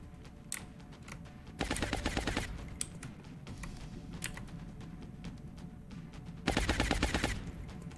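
Automatic gunshots in the turn-based tactics game XCOM: Long War: two quiet, rapid rattling bursts a few seconds apart, with soft clicks and faint background sound between them and almost no talk.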